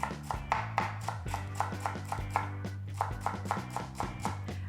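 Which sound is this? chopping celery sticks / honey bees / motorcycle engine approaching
chopping celery sticks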